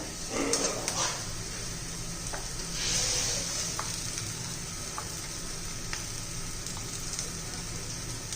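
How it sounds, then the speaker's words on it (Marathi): Ground peas tipped into a hot pan with onion and spices, setting off a steady close sizzle with scraping stirs and a brief louder hiss as they hit the oil. "आता हे बारीक केलेला वाटाणा घालून घेऊया"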